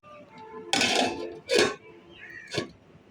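A pot of lentil dal being covered with a metal lid in a home kitchen, giving a few loud clattering clanks in close succession, the last one a lighter tap.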